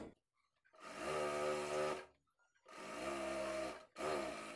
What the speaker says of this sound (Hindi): सबसे पहले हम गले की सिलाई लगाएंगे